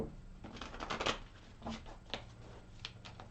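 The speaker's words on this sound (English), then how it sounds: "I've shuffled these cards very well." Soft riffling and light slaps of tarot cards being shuffled, several quick bursts at close range, quiet and without speech.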